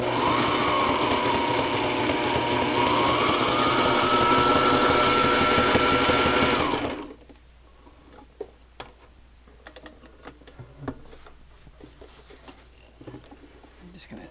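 A Sailrite Ultrafeed LS sewing machine stitches heavy upholstery-weight fabric with nylon thread, running steadily with a fast, rhythmic whir for about seven seconds before stopping, followed by quiet handling clicks and light rustling.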